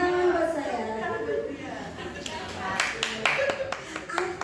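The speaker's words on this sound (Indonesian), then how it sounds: "Tepuk tangan buat saya." Clapping in a teacher training session on positive school culture, a few sharp hand claps rising in the second half under ongoing talk and light laughter from people in the room.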